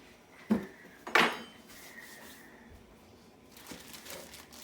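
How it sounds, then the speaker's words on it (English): Butter goes into a pan on a kitchen stove for French toast: two sharp, close metallic clinks, then soft faint scraping and quiet handling, with another light rattle near the end. "And I'm going to put some butter in my pan."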